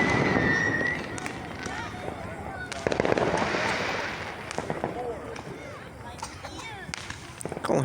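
Fourth of July fireworks going off in the distance, scattered pops and crackles mixed with a busy outdoor crowd, people talking and shouting throughout.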